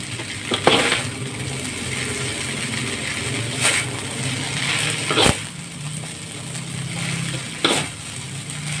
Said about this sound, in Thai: ใส่กระเฉดลงไปค่ะ เร่งไฟนิดนึงนะคะ ผัดเร็วๆนะคะ